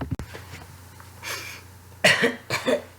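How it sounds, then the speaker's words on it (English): A person coughs several times, a faint cough first and then two louder, harsh coughs close by. "I'm about to cough"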